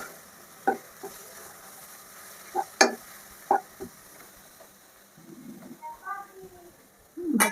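Raw turmeric stir-fried in a pan, with scattered stirring scrapes and light sizzling, a few louder clatters of the spatula against the pan, close by and intermittent.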